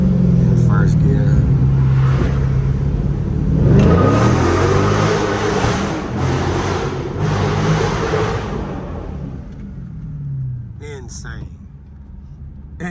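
A car with a 392 engine revs hard under a bridge, the exhaust roaring loud and booming, rising and falling, then fading away. Voices join in at the end.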